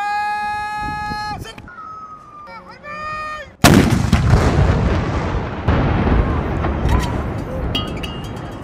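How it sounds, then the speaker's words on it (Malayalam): A ceremonial cannon fired by Dubai Police at Ramadan iftar beneath the Burj Khalifa booms suddenly and loudly after some tonal sounds, then rumbles and echoes with crowd noise behind. "യുഎഇയിൽ റംസാൻ നാളുകളിലെ കൗതുകകരമായ കാഴ്ചകളിൽ ഒന്നാണ് പീരങ്കി വെടി പൊട്ടിക്കുന്നത്."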